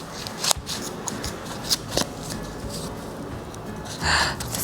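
Scissors snip through the wool of a pom-pom with a string of close, crisp cuts and rustling fibre, irregular in rhythm over soft background noise.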